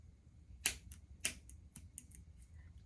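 Scissors cut through butterfly crochet locs at the root, giving two crisp, close snips followed by a few fainter clicks over quiet room tone, with no talking.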